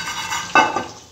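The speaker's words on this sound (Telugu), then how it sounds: "కదండి, ఇట్లా ఫ్రై అయిపోవాలి." Tempering seeds crackling and sizzling in hot oil for a curry, a steady fry with a sharp burst of spatter midway, close and fairly loud, alone without talk.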